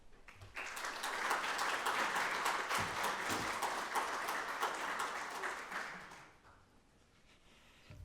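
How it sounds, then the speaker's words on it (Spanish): Audience applause at a university philosophy event as the rector is introduced, a loud burst of many hands clapping that swells quickly, holds for about five seconds, then fades to room quiet. "Démosle un aplauso."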